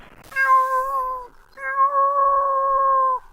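A man mimics a cat's meow with two drawn-out, nasal cries, each holding steady before trailing off, loud and close with no other sound around them.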